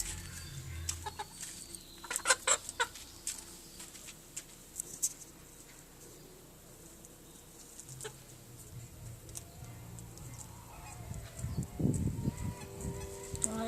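Several chickens cluck and squawk close by while pecking at papaya, with irregular bursts of clucking over a low, steady background and a louder flurry near the end.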